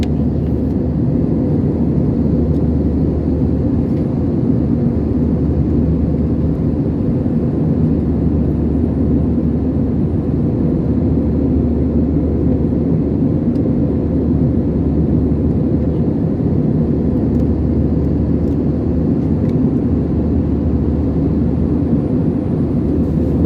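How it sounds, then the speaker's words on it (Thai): Steady, loud airplane cabin noise on a flight to Vietnam, a constant low roar and broadband hiss from the engines and airflow, unchanging throughout with no talk. "นี้เรากำลังบินไปเวียดนามนะครับ"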